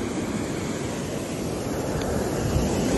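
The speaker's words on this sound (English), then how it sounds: "touching the Caribbean Ocean, footsteps in the sand" Caribbean Ocean waves wash onto a Costa Rican beach in a steady, broadband roar of surf, with wind rushing across the microphone throughout.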